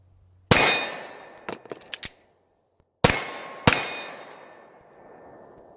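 A CZ P10c pistol's magazine drops out with a sharp metallic clang, followed by light rattling handling, then the slide slams forward in two ringing metallic clacks, close and crisp.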